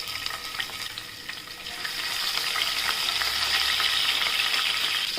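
Green chilies sizzle steadily in hot oil in a pan, a bright crackling fry that grows slightly louder and denser after the first couple of seconds, with no voices.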